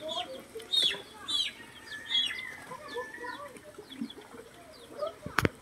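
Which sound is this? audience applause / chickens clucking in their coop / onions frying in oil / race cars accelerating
chickens clucking in their coop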